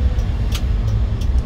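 A car drives on a road with a 60 km/h limit during a driving lesson, giving a steady, loud low engine and road rumble from inside the cabin, with no talk.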